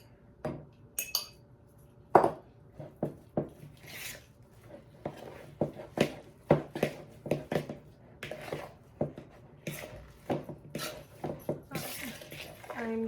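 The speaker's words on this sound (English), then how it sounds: "I'm just so sick of mashing these frozen bananas" Frozen bananas being mashed with melted butter in a bowl, giving a run of close, irregular squelching and scraping strokes with occasional clinks of utensil against the bowl, with no talk.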